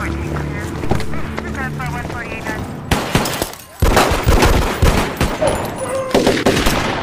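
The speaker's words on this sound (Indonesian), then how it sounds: "Hingga terjadilah aksi tembak-tembakan ala-ala EPEP" Bursts of rapid gunfire crackle in loud volleys during a shootout scene in the film Triple 9, mixed with shouting voices and dramatic film sound, intense and close.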